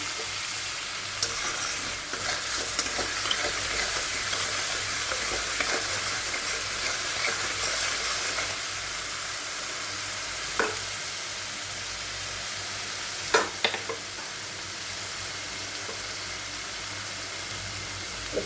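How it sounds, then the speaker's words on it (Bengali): Taro (kochu) pieces frying in a pan, a steady broad sizzle with stirring scrapes and a few sharp clinks, close and fairly loud throughout without talk. "এটাকে আমি একটু ভালো করে ভেজে নিই"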